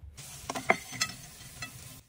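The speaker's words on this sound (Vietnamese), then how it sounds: "đảo đều cho nó thấm bơ vào sụn gà" Chicken cartilage stir-fried in butter crackles and sizzles softly in a pan, with a few sharper pops and scraping stirs spread over a short, fairly quiet stretch without talk.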